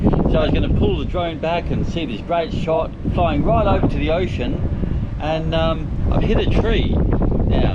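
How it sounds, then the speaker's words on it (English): Steady wind rumbles and buffets the microphone throughout while someone talks continuously over it, outdoors in Australia. "Sorry about the wind, man, it's really just continuously windy."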